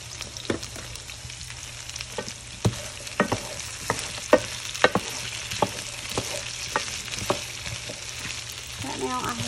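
Potatoes and minced onion fry in an electric skillet with a constant sizzle, broken by repeated sharp scrapes and taps from a utensil stirring the pan. Each stroke is close and distinct, and no one talks.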